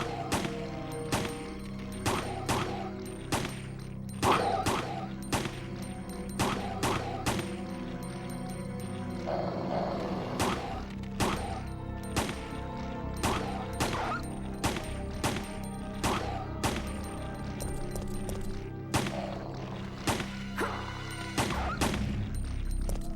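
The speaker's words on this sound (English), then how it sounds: "So many bullets it takes to pop these. This is a competition shooting gun." A competition shooting gun fires many bullets in sharp, evenly spaced bursts of loud shots over about twenty seconds, close and without talk.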